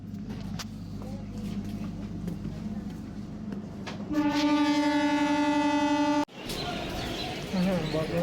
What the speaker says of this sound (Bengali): দেখি কখন ঢোকে ট্রেন